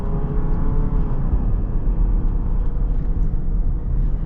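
A 2024 Jeep Grand Cherokee Trailhawk driving in sport mode, heard as a steady, loud interior engine and road rumble with a low whirring hum and no talking.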